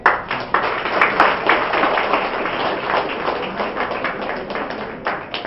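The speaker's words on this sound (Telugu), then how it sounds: "Give a big clap." Audience applause at a film felicitation event honouring a movie team, a dense, steady wash of many hands clapping that holds evenly throughout with no voices.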